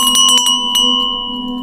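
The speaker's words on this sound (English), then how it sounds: "The doorbell chimed." A close, loud electronic doorbell chime rings out in a quick series of bright tones, then its sustained notes hang and slowly fade.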